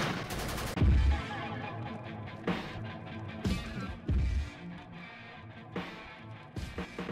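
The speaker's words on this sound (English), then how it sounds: "Chechen rebels ambush a Russian armored column and start a firefight." Gunfire in a firefight as Chechen rebels ambush a Russian armored column: repeated loud, sharp shots and short bursts that echo, spread unevenly over several seconds.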